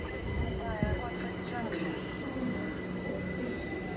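A Class 377 electric train rumbles steadily through Harrow and Wealdstone station, with faint wheel squeal and a high electrical whine under a distant voice.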